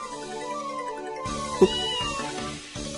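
A cat meows once, briefly and clearly, in a visual novel game, the Princess Evangile story, standing out over soft background music.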